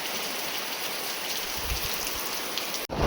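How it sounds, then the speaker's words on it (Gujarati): Steady rain falling in a village during the rainy season, a dense continuous hiss of drops on surfaces, fairly close, ending with a brief abrupt cut near the end. "તો વરસાદી માહોલ."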